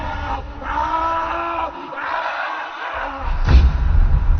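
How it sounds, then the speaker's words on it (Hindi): A writer's loud, drawn-out scream in a Hindi horror audio drama, a voice wailing for about three seconds before a dull thump, with no other talk. "कुछ देर बाद लेखक की एक जोर से चीख सुनाई देती है।"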